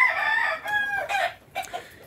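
Young gamecock chickens, six to seven months old, at a breeding yard crow in a short, strained burst, followed by a couple of close, loud clucks.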